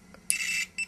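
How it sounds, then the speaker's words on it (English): A short electronic multimeter continuity beep, a sharp high tone lasting about a third of a second, followed by a brief second chirp, over a quiet background. "So now my meter beeps if I have a connection."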